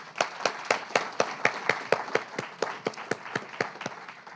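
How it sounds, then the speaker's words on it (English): A small audience at a poetry reading claps to welcome two poets, a sparse, steady patter of individual handclaps that is clearly countable, moderately close and fairly light, with no one speaking over it. "So please, I'll introduce them shortly, but a round of applause"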